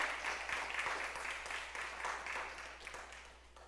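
A church congregation at a Sunday service applauds, a faint, even patter of many hands clapping that slowly tapers off.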